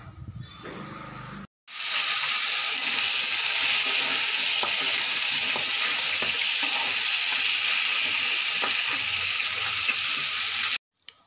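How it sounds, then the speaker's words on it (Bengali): Fish fries in oil with a loud, dense, unbroken sizzle that starts abruptly and runs close up for about nine seconds before cutting off. "মাছ ভাজা পুরো হয়ে গেছে দেখো বন্ধুরা খুব সুন্দর করে মাছ ভাজা হয়েছে"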